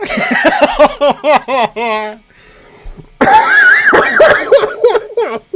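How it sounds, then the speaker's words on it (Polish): A man breaks into a run of rhythmic coughs mixed with laughter, close and loud, then after a short pause gives a longer rough coughing fit that trails off. "Kaszle po prostu."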